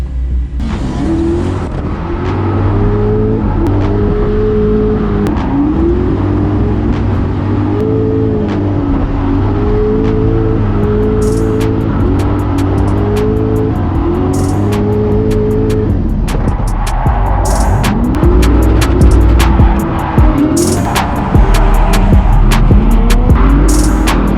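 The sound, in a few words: drift car doing a practice run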